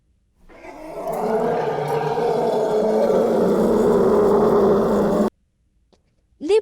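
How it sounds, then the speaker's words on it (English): An elephant gives one long, loud trumpeting call lasting about five seconds, sustained and close, then cuts off sharply. "elephant,"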